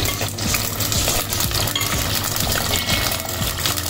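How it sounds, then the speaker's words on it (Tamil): Garlic cloves tumble into a hot frying pan while cooking a mango vathal kara kuzhambu, giving a steady close sizzle with repeated clinks and scraping taps of the cloves and stirring, no talking. "இப்போ நம்ம இந்த பூண்டு பல்லையும் சேர்த்துக்கிறோம்"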